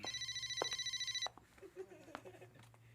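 An old-style telephone bell rings in a steady, rapid trill for about a second, then cuts off, leaving a quieter room with a faint background hum.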